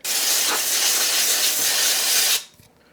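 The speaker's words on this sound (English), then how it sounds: "now I got to go downstairs and get that extra contact cleaner I have. I'll just spray this again then." Contact cleaner sprayed from an aerosol can onto electronics being serviced, one loud close continuous hiss lasting over two seconds before cutting off sharply, followed by faint handling noise.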